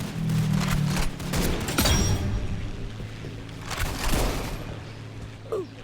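Gunfire in a Roblox video game with a custom-built gun: rapid bursts of shots and booms crackling in quick succession, loud and close, with a few quieter mechanical clicks between volleys.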